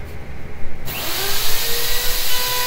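A power tool starts up and cuts a quarter-inch-wide, quarter-inch-deep groove along a wooden edge, a loud, close, steady whine and rough grinding roar that continues to the end.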